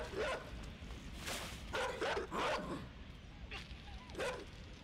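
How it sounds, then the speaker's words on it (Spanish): Dog barking in the dark side-scrolling puzzle game Inside: several sharp barks and yelps in bursts over low game ambience, fairly close, with a few short pauses between. "Ahí viene el perro, se lanzó al agua con tal de venir a atrapar"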